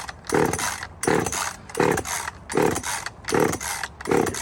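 A cheap $135 chainsaw running, its engine rising and falling in a steady rhythm of about six loud revving bursts, close and harsh, with no talk.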